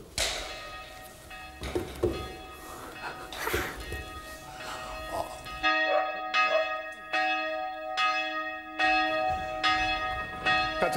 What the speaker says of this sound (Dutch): met dat klokkenluiden